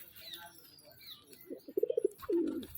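Pet pigeons kept alongside a parrot give two short bursts of low, throaty cooing up close, over a quiet background of faint outdoor noise and soft rustling.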